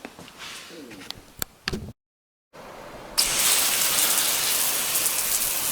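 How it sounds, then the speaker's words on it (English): A repaired garden hose nozzle sprays water in a steady, loud hiss after a short burst of mechanical clicks and a brief pause, the spray then running evenly to the end. "That's a much nicer spray pattern right now than we had before we did our repairs."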